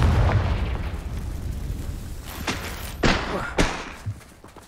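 Confringo fire spell explosions in Hogwarts Legacy, a heavy thudding blast at the start then a series of sharp booming bursts in quick succession toward the end, close and loud.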